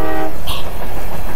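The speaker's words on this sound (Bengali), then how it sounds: "একটা ট্রেন আসতেছে পোর্টাল দিয়ে।" A cartoon train bursts through a portal in a Choo Choo Charles game animation, sounding a short, loud toot of its horn before a rumbling rush of movement takes over.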